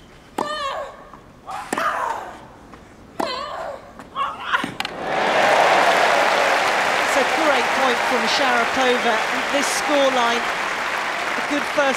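At the 2013 Roland-Garros women's tennis final, a few sharp ball strikes and voices give way to a big crowd bursting into loud, sustained applause and cheering.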